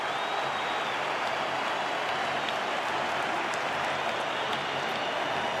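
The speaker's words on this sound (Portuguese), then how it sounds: "Para você ouvir a reação da torcida do Grêmio. Aplausos para o goleiro." Grêmio fans in a stadium at a Campeonato Brasileiro match against Corinthians applaud their goalkeeper, a dense, steady wash of clapping and crowd noise from a large crowd, with no voices rising above it.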